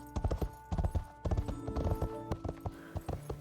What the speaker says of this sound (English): all the footfalls and beats within all 4 main gaits of a horse